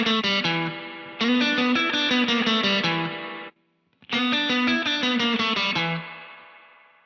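Surf guitar played through a spring reverb effects unit gives loud, fast, twangy picked runs with a splashy, drippy reverb. Two bursts are split by a brief silence, and no voice is heard.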